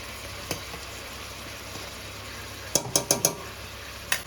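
Garlic paste sizzles in a hot pan while a vegetable pulao and mutton curry are cooked, a steady soft frying hiss punctuated by several sharp metallic clinks of a utensil against the pan.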